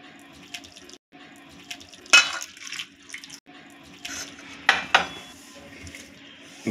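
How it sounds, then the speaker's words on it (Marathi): Water poured from a vessel into a sabudana dhokla batter with green chillies in a home kitchen, making a couple of short splashing pours amid light clinks of utensils. "आपण याच्यामध्ये हे पाणी टाकणार आहोत"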